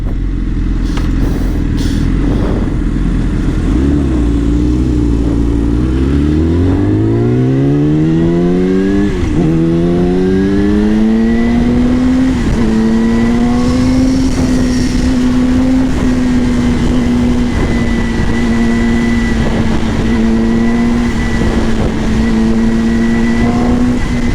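A comfortable, fuel-efficient car drives a long-distance road between Phitsanulok and Sukhothai; the engine note rises steadily through the gears, then settles into a loud, constant cruising drone with wind and road rumble.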